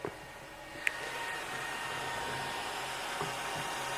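A laser engraver's cooling fan gives a steady whirring hum throughout, fairly quiet, with a brief click near the start and no voices.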